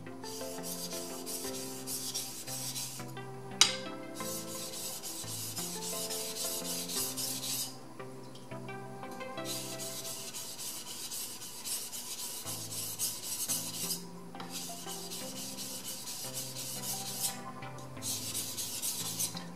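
An usuba knife is ground on a whetstone in long, even rasping strokes repeated in a steady back-and-forth rhythm, loud and close, with brief pauses between passes.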